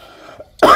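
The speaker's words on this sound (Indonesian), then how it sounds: "Maaf ya batuk" Quiet murmuring about diecast model vehicles, then a single sharp cough bursts out loudly near the end.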